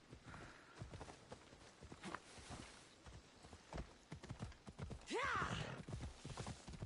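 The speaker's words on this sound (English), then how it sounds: "Get on your horse, Rob." A horse in Assassin's Creed Odyssey clip-clops along at a walk, steady hoofbeats close by, with a brief neigh near the end.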